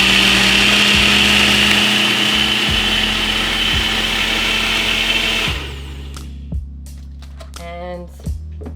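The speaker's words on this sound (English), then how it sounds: "Give it a nice little shake and blend it up." A blender whirs loudly and steadily blending an acai bowl, then cuts off into quieter shaking and clunking of the jar.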